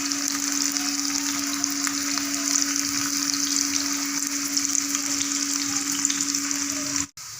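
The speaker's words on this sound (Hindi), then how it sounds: "प्याज को अच्छी तरह से हम इसमें पकाएंगे यहाँ तक कि ये बिल्कुल ब्लैक हो जाए" Onions fry in oil in a pan over a normal flame, cooked until dark, giving a steady, close, unbroken sizzle with a faint constant hum underneath.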